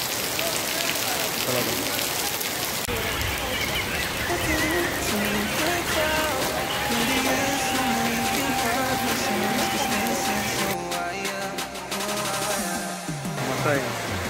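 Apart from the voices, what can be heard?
heavy unseasonal rain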